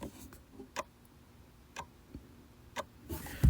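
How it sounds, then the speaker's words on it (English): Inside a chiming table-top mantle clock by an unknown maker, with the back door swung open, the movement ticks in sharp, evenly spaced beats about once per second, close and clear over a faint background hiss. "you might be able to hear the ticking better now because we're on the inside of the clock"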